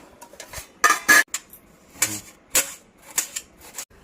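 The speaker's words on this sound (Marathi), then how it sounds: "तोपर्यंत मी इथे कांदा बारीक करून घेते" An onion is chopped finely with a knife on a board, giving a string of sharp, uneven taps and clacks, close and distinct against a quiet background with no talking.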